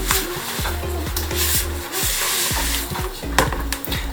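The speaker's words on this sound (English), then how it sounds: "Jade is gonna mix everything in" Smarties cookie dough for soft cookies being mixed by hand in a bowl, a steady rubbing and scraping that runs throughout, with faint tonal sounds in the background and no talk.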